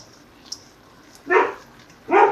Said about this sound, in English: Oh, that's a dog barking.